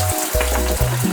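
Shito ingredients frying raw in hot oil, a brief steady sizzle with low bubbling tones close by, heard alone.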